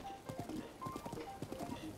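Horse hooves clip-clop at a steady trotting rhythm in the video game The Legend of Zelda: Breath of the Wild, with soft tonal game sounds in the background.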